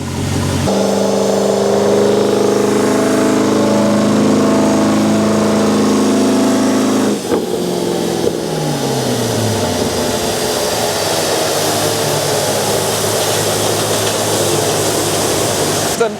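A Corvette C5 engine roars at sustained high revs during a dynamometer pull, droning loudly and steadily, then drops in pitch and settles into a rougher, lower running note.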